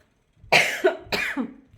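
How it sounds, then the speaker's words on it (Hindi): Two harsh, close coughs in quick succession, the second rougher, with the start of a third cut off at the end; no speech. "खांसी हो रखी है"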